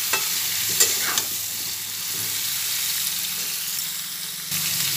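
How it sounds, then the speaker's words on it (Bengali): Pointed gourd and potato pieces fry together in hot oil, giving a steady, close hiss, with a couple of light clinks as they are stirred in the pan. "পটল আর আলু একসঙ্গে ভেজে নিচ্ছি।"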